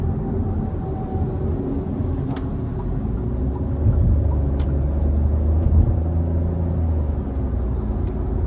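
A 2022/2023 Fiat Pulse Drive 200 Turbo accelerates on the highway, heard from inside as a loud, steady engine and road rumble that builds slightly in the middle and then holds, with no talk.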